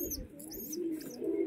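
A baby pigeon with a bent leg, hatched inside a water tank, coos softly in a few low, repeated murmurs. Faint chirps sit higher up, with no talk over it.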